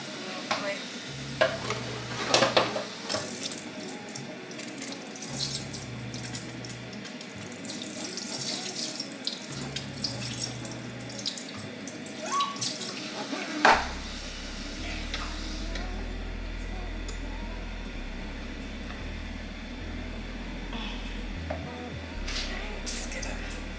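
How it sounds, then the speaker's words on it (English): Water from a kitchen tap runs in several bursts as a brand-new pot is rinsed, with the stream hissing into the metal and occasional clanks and handling noises, while a person talks intermittently. "I guess I can just like rinse it and then go from there."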